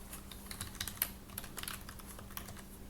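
Steady keyboard typing at close range, a quick run of light clicking keystrokes with a few louder taps, heard alone over a faint background hum.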